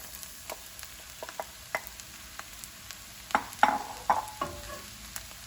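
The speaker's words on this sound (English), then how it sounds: "we just want to cook those mushrooms down until they're also nice and caramelized" Mushrooms sizzle faintly in a pan with caramelized onions and crispy sausage for a sticky rice stuffing, with scattered utensil clicks and a few louder scraping stirs near the end.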